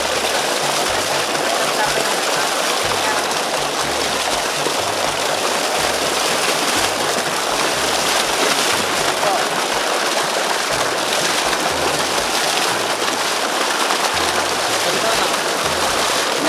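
Steady rushing water fills the whole stretch, a constant wash of a flowing rural stream close by, with people talking over it now and then.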